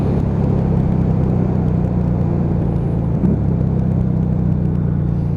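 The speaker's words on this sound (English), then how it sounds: "That deep exhaust tone just growling through." Lexmoto Vendetta 250cc motorcycle underway, its steady low exhaust drone and road rumble continuing at a constant level with wind noise throughout, no speech.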